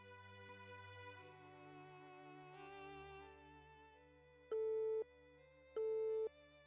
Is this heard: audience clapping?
no